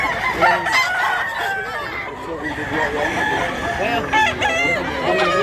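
Roosters crow close by amid clucking and fowl chatter, several overlapping calls rising over a busy farmyard background with some voices, in Mantalungon, Barili, Cebu.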